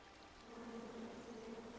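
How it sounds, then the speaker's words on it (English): Bees from the King's Quest game hum in a steady, faint, low drone that swells slightly halfway through and holds to the end, with no voices over it. "Come at me, bees!"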